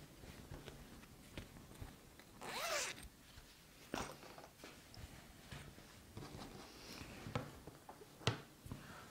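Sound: zipper on a handmade bag being opened

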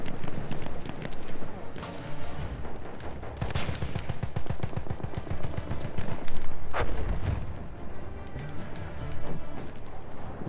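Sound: gunfire from a rifle in Battlefield 1 video game

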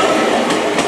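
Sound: JR Shikoku 8000 series limited express train departing

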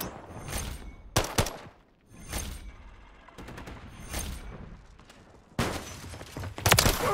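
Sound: remote turret firing in Call of Duty video game

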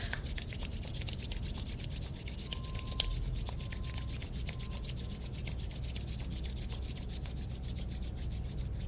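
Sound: hands rubbing together to warm them

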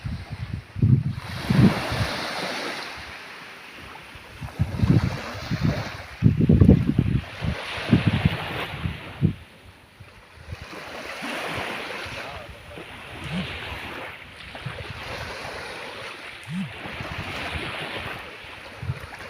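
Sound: sea waves on the shore

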